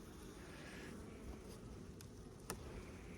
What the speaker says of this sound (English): I don't want to disturb the bees too much.